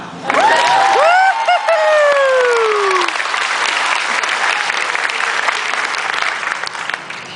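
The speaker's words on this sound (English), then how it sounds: "You can clap now." A fan convention crowd at a panel bursts into loud applause, with whoops and high cheers rising over the clapping at the start before the clapping carries on steadily.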